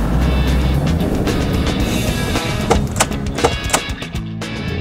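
Lexus car pulling away at the start of a test drive, its engine a steady, loud rumble that swells slightly near the end as the car gets moving, with no talk over it.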